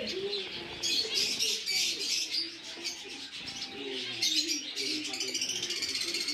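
Cherry finches on a backyard finch farm in Barisal chirp and twitter busily in a dense, steady chorus, with other small birds and cooing mixed in and someone talking faintly underneath.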